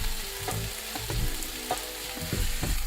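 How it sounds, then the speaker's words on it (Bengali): Eggplant and chopped ripe tomatoes frying together in a pan for achari begun, a steady close sizzle with soft scraping stir strokes recurring every half second or so, no voices. "বেগুনের সাথে দিয়ে দেবো, সব ভাজবো ভালো করে।"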